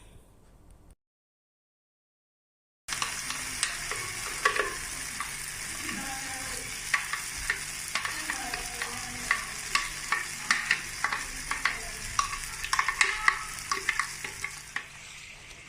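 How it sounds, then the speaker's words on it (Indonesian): Ground spice paste for sate padang sizzling in hot oil as it is sautéed, a continuous close crackle with frequent spoon clicks and scrapes against the pan, after a brief silent gap at the start. "Minyak sudah panas, kita masukkan bumbunya."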